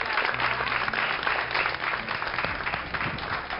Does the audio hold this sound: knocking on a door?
no